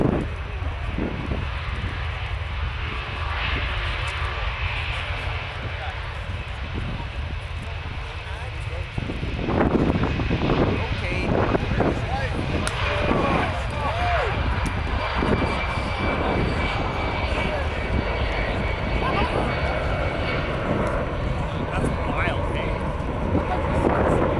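A C-17 aircraft takes off in a steep departure climb, its loud jet engine roar swelling partway through and holding strong, mixed with wind buffeting and a voice talking over it.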